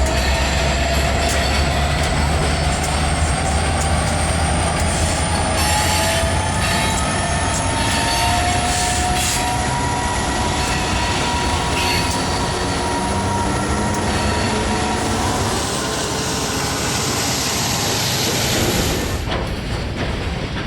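Santa Fe freight trains pass on the Richmond–Stockton line, a loud, continuous rumble of rolling cars and clattering wheels with occasional squeals, steady and close for most of the stretch before easing near the end.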